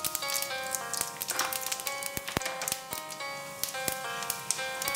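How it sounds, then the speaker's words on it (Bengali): Panch phoron spices crackling in hot oil and ghee for mutton masala curry, a quiet sizzle broken by scattered sharp pops and ticks as the seeds burst, with faint clinks of utensils. "এই তেলের মধ্যে 2 চামচ 5 ফোড়ন দিচ্ছি।"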